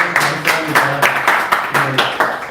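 Congregation at a Korean midday workplace worship service clapping in a steady, even rhythm of about two claps per second, loud and close, with a faint voice or tone sustained beneath.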